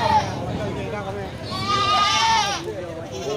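Goats at a livestock market bleat in a few wavering, nasal calls amid crowd chatter and a busy background, with people talking nearby.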